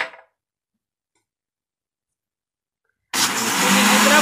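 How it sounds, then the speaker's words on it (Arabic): After a long silence, a blender mixing milk and sugar suddenly starts and runs with a loud, steady whirring drone. "وهنشغل الخلاط وهنرجع لكم."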